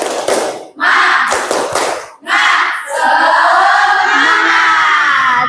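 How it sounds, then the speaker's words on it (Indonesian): A classroom of children chants "tepuk semangat" in Indonesian and claps together in a loud, rhythmic burst, with short pauses between phrases before a sustained shouted ending. "mari kita bersama-sama. Tepuk semangat."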